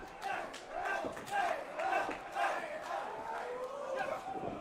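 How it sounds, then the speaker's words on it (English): A divided crowd at a GCW/JCW Jersey J Cup wrestling match chants and cheers in rising and falling waves, loud and close throughout. "Crowd still very divided."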